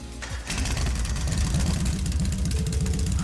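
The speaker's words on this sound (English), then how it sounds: "Alright, I'm going to start up the engine now." Vehicle engine in the Trails of Cold Steel video game starts up and settles into a steady, loud, rhythmic low throb with a buzzing upper layer, running continuously without speech.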